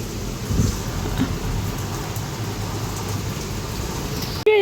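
Rain falls outdoors in a steady, continuous hiss of fairly loud patter, with a sudden brief break just before the end.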